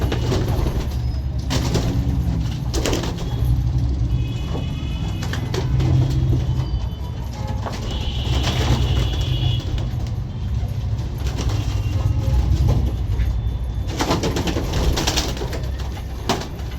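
Pigeons at a home loft, with loud close wing flapping bursts and scattered cooing and fluttering among the birds over a steady background rumble.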